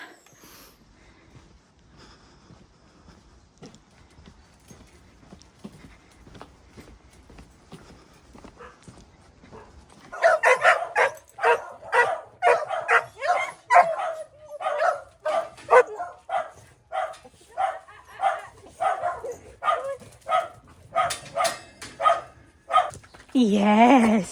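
After a stretch of faint rustling, puppies start yapping in quick, high, repeated barks, nearby and continuous, ending in a drawn-out whine.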